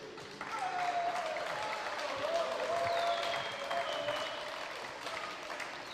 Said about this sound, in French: Je sens qu'on se fatigue au niveau des applaudissements.